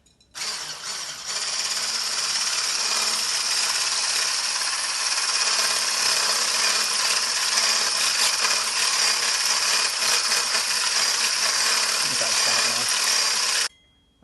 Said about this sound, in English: So this here now, this gets whipped into a foamy milk mixture